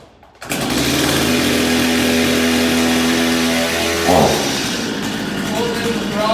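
A chainsaw's small two-stroke engine is pulled over and catches, then runs loud and steady at a high idle with a brief rise in pitch near the end.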